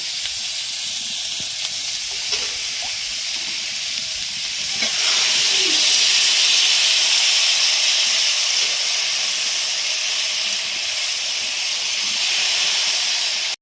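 Water poured into a hot pan while cooking a winter fish curry of khalse fish with potato and cauliflower, giving a steady loud hiss that swells partway through and holds, steam-like and continuous, with no talking.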